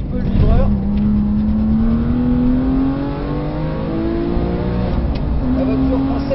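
A Porsche 997 Carrera 2S on a race track, its engine revving hard and climbing toward 7000 rpm through the gears, loud and sustained close up, with a voice talking over it.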